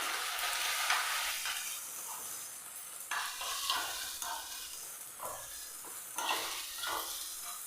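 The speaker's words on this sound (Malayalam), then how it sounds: "ഇതിലേക്ക് നമുക്ക് നമ്മളെടുത്ത് വെച്ച മുട്ട നല്ലപോലെ ഒന്ന് ചിക്കിയെടുക്കാം." Eggs being scrambled and stirred in a frying pan, a close, steady sizzle and hiss of frying broken by repeated scraping strokes of a utensil, with no talking.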